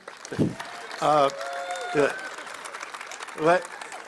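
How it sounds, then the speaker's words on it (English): Scattered audience clapping at a hockey club press event, light and somewhat distant, running beneath several bursts of voiced cheering or speech that stand out above it. "you can clap if you want to"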